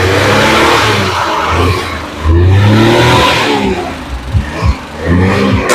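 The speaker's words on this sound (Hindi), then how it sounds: "आप इसका शायद साउंड भी इंजन का सुन पा रहे होंगे।" A 1989 Suzuki Bolan in genuine condition runs its engine close by, loud and steady with audible revving swells and a few sharp throttle blips near the end, no speech over it.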